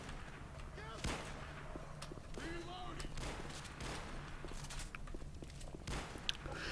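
World War II rifle gunfire in Left 4 Dead 2, with sharp shots scattered across several seconds over a busy game background while people talk.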